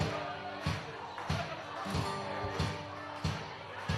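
An audience claps hands in a steady rhythm along to live Irish music, each clap a sharp, fairly close burst over the band's sustained instrumental backing.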